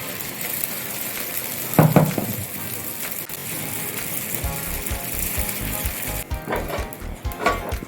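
Rice amboli batter sizzles on an oiled pan with a steady hiss, joined by scraping and clattering of utensils and someone speaking over it.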